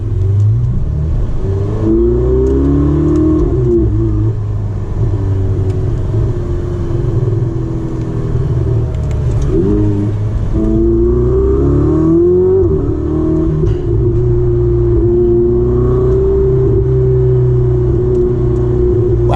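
A turbocharged Ferrari 488 Spider engine revs and accelerates loudly through several gear changes, its deep drone rising and dropping in pitch, close and continuous.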